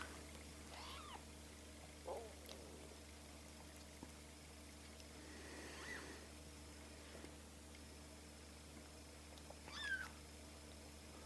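A cat giving birth to kittens lets out a few faint, strained meows spaced several seconds apart, quiet and close, over a low steady background hum with no speech.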